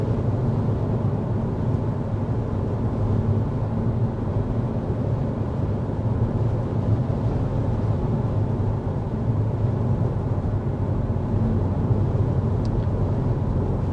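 Steady low road rumble and tire hum inside a moving 2024 Hyundai Sonata cabin at 55 mph, constant and fairly quiet at about 55.6 decibels, with no talking.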